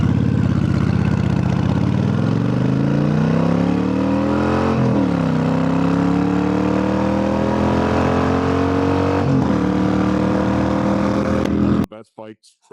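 A Yamaha V-Star 1300 cruiser motorcycle with a 2-into-2 exhaust runs loud and close, its engine note rising steadily through revs with a couple of brief shifts before cutting off abruptly near the end.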